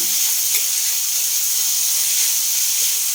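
Three onions frying in oil in a pan, browning slowly, give off a steady, even sizzle and hiss that runs unbroken without any talking.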